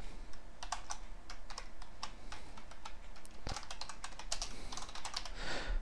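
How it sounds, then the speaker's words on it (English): Rapid, busy typing on a computer keyboard, dense clusters of close-up key clicks with brief pauses and a heavier thump midway, no talking. "you may see me typing and you're probably wondering, how is he typing so fast?"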